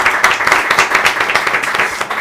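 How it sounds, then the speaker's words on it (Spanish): A studio audience claps briskly and loudly for a guest on a talk show, the applause close and steady with separate hand strikes standing out throughout. "un fuerte aplauso para ella."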